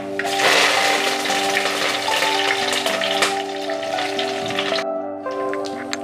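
Mustard seeds and curry leaves fry in hot oil for rasam, crackling and sizzling loudly and continuously close by, with a hiss like rain and a steady background hum.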